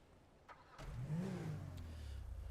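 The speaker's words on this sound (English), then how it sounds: "As I turn on my car." A car engine in a video game cranks and catches, then settles into a low, steady idle with a brief rising rev.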